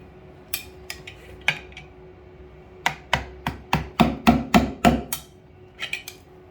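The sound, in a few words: hammer hitting to loosen plumbing putty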